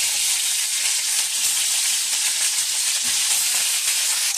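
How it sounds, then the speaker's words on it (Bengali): Jhatka (young hilsa) fish frying in hot oil in a kadai gives a steady, dense sizzle with constant hiss that holds level throughout, close and fairly loud with no talk. "তেল দিয়ে মাছটাকে দিয়ে দেবো"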